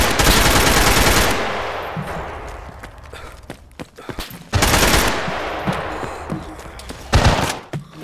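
Bursts of automatic gunfire in the survival game DayZ: two long, loud sustained volleys separated by scattered thuds and footsteps, closing with a short, sharp burst.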